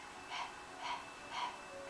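Three rhythmic, breathy panting exhalations, evenly spaced, imitating a hot dog panting with an open mouth as a breath-of-fire yoga breathing demonstration, close and fairly soft.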